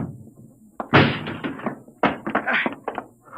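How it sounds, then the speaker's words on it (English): A door is battered down in an old radio drama sound effect from 1950s-era Dimension X: two heavy crashing blows followed by a cluster of splintering thuds, loud and close. "Break down the door."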